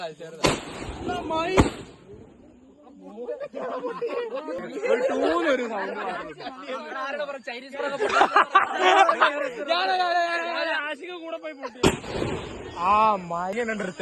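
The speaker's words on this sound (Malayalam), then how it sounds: "ആ ഇത് ചൈനീസ് പടക്കോ?" Loud sharp Chinese firecracker bangs burst out near the start and again near the end, with people chattering and laughing between the blasts.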